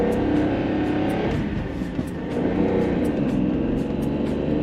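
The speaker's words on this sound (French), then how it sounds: "je vais vous faire entendre un petit peu le V12." A V12 engine in an 800 hp supercar drones steadily and loudly throughout, a continuous close-up engine roar with no speech.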